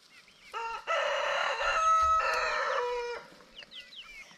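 A rooster crows loudly and close in one long drawn-out call, with clucking chickens on a farm around it before and after.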